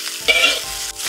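Ingredients hit a hot wok for a fish-fragrant dish, bursting into loud close sizzling with scraping stir-fry strokes and a brief clatter, all in one short burst.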